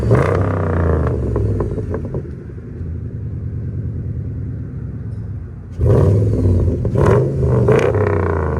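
A lifted 4x4 Dodge Dakota with a 4.7L V8 and true dual exhaust rumbles at idle and through steady revs, then sharper crackling pops burst out near the end, loud and close.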